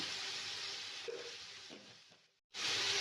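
Half a kilo of chicken sizzles steadily in a hot pot for chicken biryani, a continuous frying hiss that briefly cuts out near the end and returns louder.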